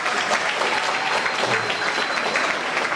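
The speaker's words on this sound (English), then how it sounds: "give your coaches a thunderous round of applause" Thunderous applause from a crowd honoring coaches at a high school sports awards night, steady dense clapping filling the room for the full three seconds without pause.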